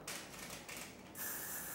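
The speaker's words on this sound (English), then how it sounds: "taking that heavier spray, going down with it along the rope" Heavy hairspray sprayed down along a two-strand rope braid in a salon, a steady hissing spray in close bursts, pausing briefly and then resuming for a longer, louder push.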